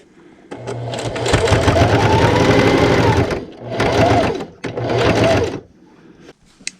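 A sewing machine runs loud and close while stitching a small fabric pint-size ice cream cozy, in one long steady burst followed by two shorter runs with brief pauses between them, and no talking.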